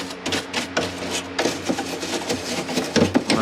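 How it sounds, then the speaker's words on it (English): A brush scrubs grime inside a BLACK+DECKER 10,000 BTU portable air conditioner in close, rhythmic rasping strokes with scraping bursts and knocks. "Might just kind of loosen all this stuff up here with a brush"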